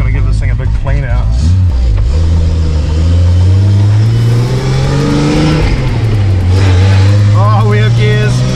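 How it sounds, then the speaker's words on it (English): A Nissan Patrol fitted with a Barra engine drives on a road test, its engine droning loud and close inside the cabin, rising and falling with gear changes and light throttle, with some talk over it. "We'll go for a quick little test drive down the road"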